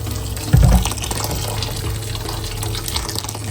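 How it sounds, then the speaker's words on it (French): Hot water poured into a pot of ngoundja in a kitchen, a steady close rushing flow with a brief louder splash at the start. "Je rajoute de l'eau chaude"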